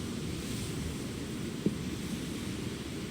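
Ocean waves in the video game Tales of Arise, heard as a steady, broad wash of surf with no distinct breaks, close and constant, with one tiny click partway through.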